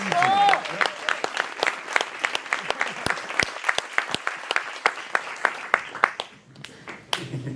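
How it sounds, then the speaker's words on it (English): An audience claps for Jukka Iisekila of the Tampere Philharmonia at a live interview event at G Livelab in Tampere, Finland, with a dense burst of applause that thins to scattered claps toward the end. "Give Jukka a big applause"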